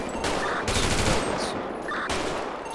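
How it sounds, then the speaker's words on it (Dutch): Sustained bursts of AK rifle fire in a video game, loud and dense, with overlapping volleys running nearly continuously. "Schoten met AK's."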